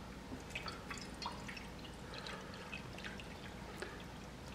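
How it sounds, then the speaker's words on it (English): Cool tap water runs into a stainless steel jewelry cleaner tank, a quiet steady trickle with scattered drips and splashes, faint and continuous, with no talking. "we're going to fill it up with some cool tap water"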